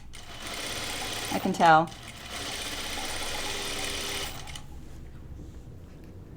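A home sewing machine stitches just inside the seam line of a Charlie Caftan, running in a steady, close whir for about four seconds. A voice speaks briefly over it, then the machine stops and quiet follows.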